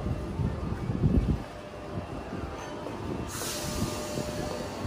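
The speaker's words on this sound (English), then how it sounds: "Now departing, we have Tangawa set T63 and another set" Tangawa set T63 pulls away from Sutherland station in a deep, rolling rumble of wheels and carriages. A bright hiss rises partway through, and no one speaks.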